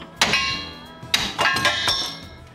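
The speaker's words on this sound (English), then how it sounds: "I'm just disconnecting the drive shaft from the front of the rear end so we can pull it out" Metal clanks and ringing tool strikes while bolts are removed to disconnect the drive shaft from the rear end of a 1957 Chevy, three or four sharp close hits with short metallic decays.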